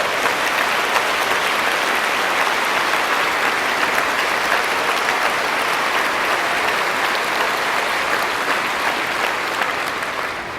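A large conference audience gives a sustained round of applause, dense and even clapping filling the hall for about ten seconds before easing slightly at the end.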